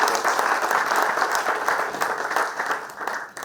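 Steady applause from a conference audience after an electronics industry panel talk, a dense even patter of many hands clapping that tapers slightly at the close.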